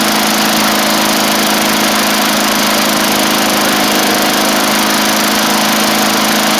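A 1990s MTD Yard Machines push mower with an old-style Tecumseh engine running, a loud, steady high buzzing engine drone close by and throttled up, unbroken for the whole stretch.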